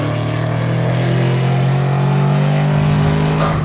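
A loud car engine roars steadily at the Nürburgring with a deep, throaty rumble, holding a sustained growl throughout with no voices.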